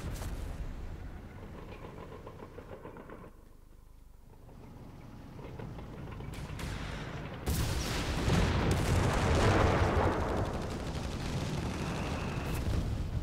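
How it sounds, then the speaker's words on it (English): Airburst mortar shells fired from a mortar pit in a World War II strategy video game boom and rumble, the blasts swelling louder midway into a dense roar of explosions. "He's trying to defend his position with the airburst shells from the mortar pit."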